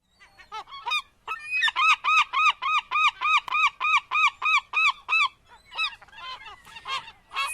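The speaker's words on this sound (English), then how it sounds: "This is the herring gull." Herring gull calling: a loud, close run of about a dozen sharp, evenly spaced yelping calls in quick rhythm, trailing off into a few looser notes against a quiet background.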